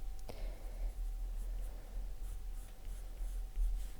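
Polychromos colored pencil scratching across paper, a soft continuous close scraping with light strokes and one sharp tap early on, over a low background hum and no talking.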